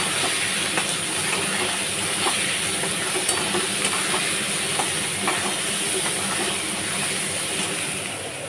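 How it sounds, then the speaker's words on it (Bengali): Ginger and potatoes fry in a pan with a continuous close-up sizzling hiss, broken by scattered soft scrapes and taps of stirring. "এবারে একটু নাড়িয়ে দিচ্ছি।"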